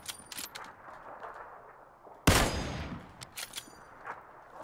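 A single loud gunshot cracks out midway through a quiet stretch of PUBG play, surrounded by faint scattered clicks and small impacts.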